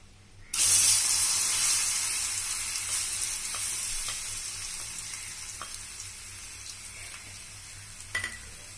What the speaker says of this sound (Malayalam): നെയ്യ് ചൂടായിട്ടുണ്ട്, നമുക്കിനി പഴം ഇതിലോട്ടിടാം.